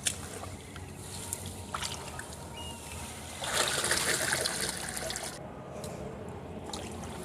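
Bird nesting grass is dipped and swished in a tub of water, giving a steady close trickling, sloshing wash that surges louder for a couple of seconds midway before settling back.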